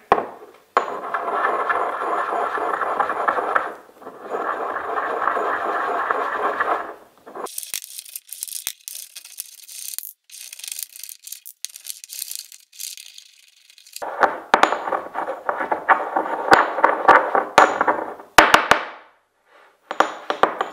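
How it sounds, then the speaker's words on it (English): OSR is ground in a stone grinder, with harsh gritty scraping and crunching in rhythmic bursts, a long quieter stretch of scattered clicks, then more rapid grinding strokes, loud and close with no talking. "now we have OSR here on the bottom, and then we grind it"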